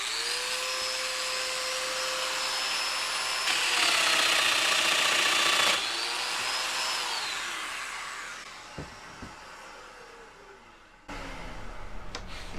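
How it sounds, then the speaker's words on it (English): Festool Domino joiner plunging into wood, a high whining motor that rises in pitch as it cuts, then winds down and fades, followed by brief clicks and another short burst near the end. "now I'm going to take this paddle, reference off the point of my Domino, and then plunge it in 20 20 millimeters"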